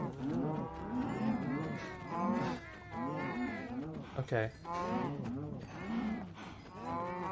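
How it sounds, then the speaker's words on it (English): Cows mooing on a farm in a video game, a few low calls mixed in with near, steady talking from a player. "I was just about to say though how I'm farming cows."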